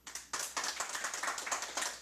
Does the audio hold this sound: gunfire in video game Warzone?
no